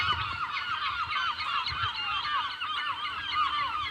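A flock of seagulls calls over a grassy garden path, their harsh overlapping cries forming a dense, steady chorus that continues without pause.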